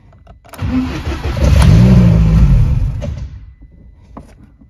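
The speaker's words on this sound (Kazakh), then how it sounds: "Газ басып қалды едім. Көлік кейін бірден өшіп қалды." A car engine cranks and catches, revs up briefly with a rising roar, then dies away into quiet; the sound is loud and close, with no talking.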